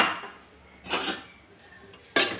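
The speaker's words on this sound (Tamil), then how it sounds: "நல்லா மிக்ஸ் பண்ணி விடலாம்." A spoon stirs mushroom pulao with green peas in a pot, making a few close metallic scrapes and clinks in separate bursts with quiet pauses between them, and no voices.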